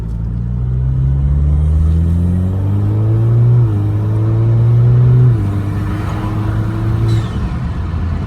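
An Alfa Romeo Giulia turbo engine with an aftermarket intake climbs in pitch through the gears with a deep intake growl, shifting twice as it accelerates, loud and close.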